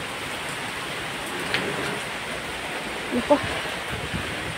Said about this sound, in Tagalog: Maulan na, guys. Mahangin.